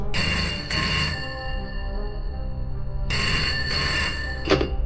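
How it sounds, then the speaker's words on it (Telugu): An old-style telephone bell rings in two long bursts separated by a pause, loud and close, with no talking. "చింతపల్లి పోలీస్ స్టేషన్కి ఒక ఫోన్ కాల్ వచ్చింది"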